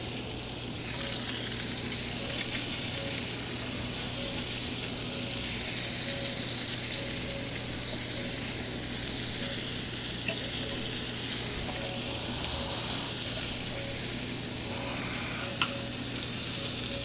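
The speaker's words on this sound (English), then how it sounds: "Nice little sizzle going on." Steady, dense sizzling of halibut cheeks frying in a hot pan, continuous and close, with a low hum underneath and no voices.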